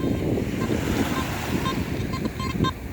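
Waves washing against the shore at a fishing beach, a continuous churning surf with wind noise across the microphone, steady and close, no talking heard.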